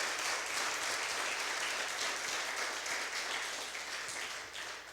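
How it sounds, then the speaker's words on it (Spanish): A church congregation claps for the Lord in a steady, dense round of applause that holds for several seconds and tapers slightly at the end. "¿Puede darle un aplauso al Señor?"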